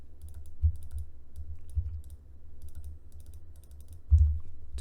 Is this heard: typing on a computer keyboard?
yes